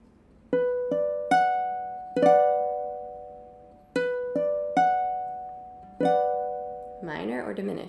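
A minor chord in root position played on a sustained keyboard-like instrument: ascending broken notes then the full chord, the pattern repeated twice with ringing decay, followed by a person starting to speak.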